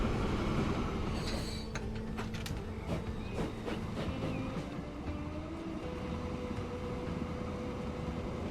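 A steam train hauls ore in the rail-building game Transport Fever 2: a steady rumbling rolling sound with scattered metallic clicks and squeals throughout, no talk.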